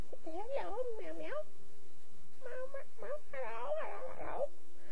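A female rescue cat meows repeatedly indoors, several drawn-out, wavering cries close by, with brief pauses between them and a longer, strained wail at the end.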